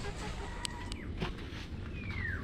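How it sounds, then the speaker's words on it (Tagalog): Backyard chickens calling after a windy overnight thunderstorm, a short chirp and a rising squawk standing out against steady outdoor wind and rustling, with no talk. "Gusto kaya ating mga manok na ngayon, maganda ng kanilang halak-halak."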